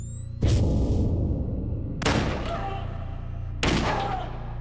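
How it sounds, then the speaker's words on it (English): A 9mm handgun fired three times, each loud sharp crack with a booming tail, spaced roughly one and a half seconds apart. "a 9mm gun being fired multiple times"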